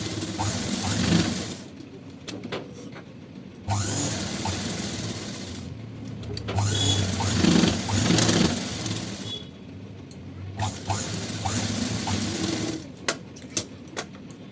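Sewing machine stitching blouse fabric in a continuous motorized whir, running in several bursts with brief slowdowns between them, close and steady with no talking.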